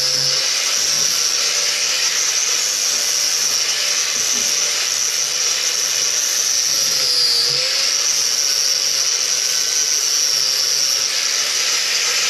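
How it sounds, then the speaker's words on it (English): An impact driver with a T45 Torx bit works a bolt on a Jeep roll cage, producing a loud, continuous high-pitched whirring and buzzing that runs unbroken for about twelve seconds. "keep good pressure on the impact so the bit stays in the head"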